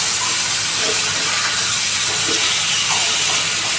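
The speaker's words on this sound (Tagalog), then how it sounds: "Kaya mag-ihaw akong okra." Okra sizzles on a barbecue grill beside marinated chicken, giving a steady, loud, hissing crackle that continues without pause and carries no speech.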